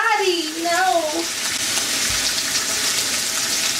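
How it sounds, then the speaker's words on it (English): Steak laid into a hot pan of butter and oil sizzles loudly and steadily, a dense hiss that fills the whole clip. A faint whistling tone sweeps over it near the start. "I'm going to take this steak and I'm going to lay it down away from me so that the butter and oil doesn't splash on me"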